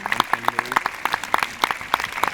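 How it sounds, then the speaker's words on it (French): A small audience in Brignais near Lyon claps during an evening event, with a few distinct close hand claps in a loose rhythm over an undertone of voices and tonal sound. "Et vous pouvez également applaudir."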